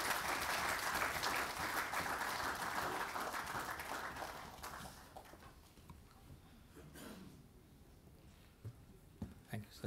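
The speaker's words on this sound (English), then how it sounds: "Let's give him a good big round of applause" Audience applause for a guest of honour at a university's tenth anniversary celebration, a fairly loud wave of clapping that fades out over several seconds into quieter room noise with a few isolated sounds.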